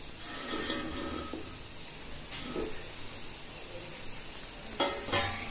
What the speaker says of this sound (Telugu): ఇప్పుడు మనం కొంచెం దీన్ని స్పూన్ తో కలుపుకుందాం